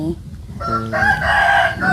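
Chicken crowing close by, a single loud drawn-out call that rises and holds for over a second, preceded by softer clucks and low rustling.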